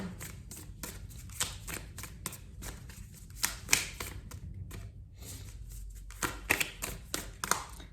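Tarot cards being shuffled by hand nearby: uneven bursts of sharp flicking and tapping clicks, quick and repeated, with brief pauses between handfuls and no voice present.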